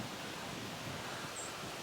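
Cold mountain wind blowing along a pond in New Hampshire at around freezing, a steady broadband rush of moderate, faint loudness that continues evenly without any gusting peaks.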